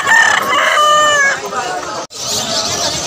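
A rooster crows loudly and close by at a Malabon poultry and pigeon market, a long wavering call, followed by a brief pause and busy market chatter and background noise.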